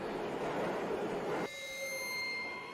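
A train in a visual novel video game rumbles with a broad, steady roar that stops abruptly partway through, leaving a quiet, thin tonal hum.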